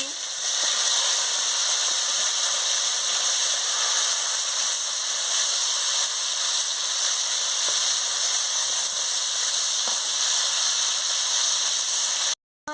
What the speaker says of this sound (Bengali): আমার তেল গরম হয়েছে, পনিরটা দিয়ে দিচ্ছি, দিয়ে ভালো করে আমি ভেজে নিচ্ছি।